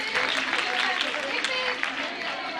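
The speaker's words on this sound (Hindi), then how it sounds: "महिला मंडलों के सभी महिलाएं एक बार ताली बजाकर इनका सम्मान करें।" Women's groups applauding at a women's day event, a dense, steady wash of clapping from a sizeable crowd that fills the whole stretch at even loudness.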